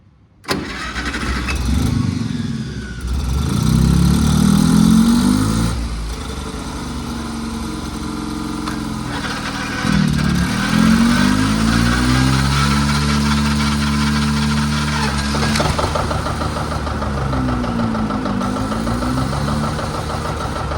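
A John Deere 70 diesel tractor cranks and fires up, then settles into a loud, steady chugging run nearby, with revs rising and falling a few times.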